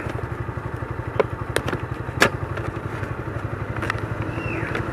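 A Honda Pipa TT150 motorcycle being ridden, its small engine putting out a steady rapid putter with occasional clacks and thumps, close and continuous with no voices.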